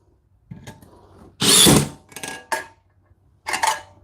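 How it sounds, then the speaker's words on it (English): A DeWalt power drill drives a Tapcon screw into brick, whirring in a few short bursts, one longer run and two brief pulses, close by with quiet pauses between. "Let's put a Tapcon in here."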